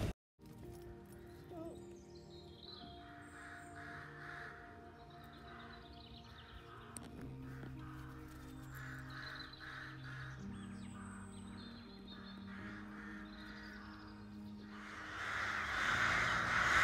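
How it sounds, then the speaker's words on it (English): Crows caw repeatedly across a garden, a loud flock with harsh calls and some other birds chirping, set against steady outdoor background, with a swell of noise near the end. "When they say a murder of crows, they're not kidding, the noise that they're making."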